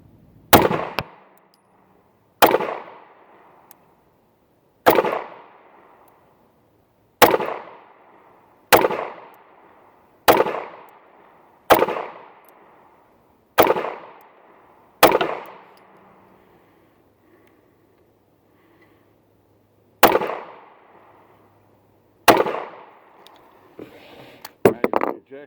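A Taurus G2c 9mm pistol fires about a dozen sharp shots at a target outdoors, spaced a second or two apart, each crack loud and close with a short decay, and a longer pause midway.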